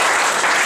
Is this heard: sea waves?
no